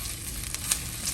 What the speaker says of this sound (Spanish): Vamos a dejar que se empiece a freír.